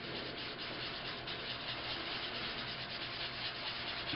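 An applicator rubs and swirls walnut brown metallic paint across a stained glass surface, giving a steady, close, continuous soft scrubbing sound alone with no voices.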